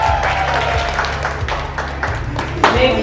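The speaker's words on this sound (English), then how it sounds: "Let's clap it up." Wedding guests at a farmhouse celebration applaud together in a steady, dense wash of clapping that holds throughout, with some background chatter mixed in.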